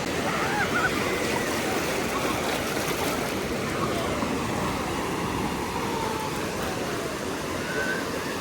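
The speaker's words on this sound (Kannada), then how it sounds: "ಹೋಗಿದೆ ಗೈಸ್ ಬೋಟ್ ನೀರಿಗೆ" A boat moves on the sea near Netrani Island, giving a steady rushing wash of water and engine noise that holds evenly throughout.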